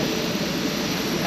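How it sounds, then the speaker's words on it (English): Steady, loud jet-engine roar from an airplane while passengers board, a broad continuous rumble and hiss filling the short moment without voices. "Finally getting on the plane."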